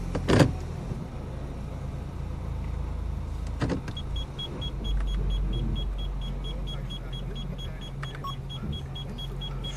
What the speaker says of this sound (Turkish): Aracı bir ileri geri yürüteyim.